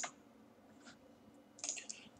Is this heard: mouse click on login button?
yes